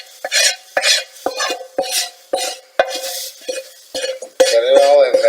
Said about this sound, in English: add this hot paprika mixture in oil to your tavche gravche. Let it sizzle.